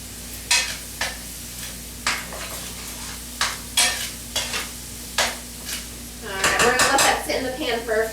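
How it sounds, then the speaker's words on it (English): Beet greens, pancetta and minced garlic stirred in a pan, with a series of sharp utensil clicks and taps against the pan, then a burst of louder sizzling and scraping near the end. "Okay, we're going to stir that all together."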